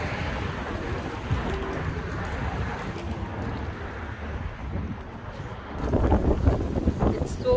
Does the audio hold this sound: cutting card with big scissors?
no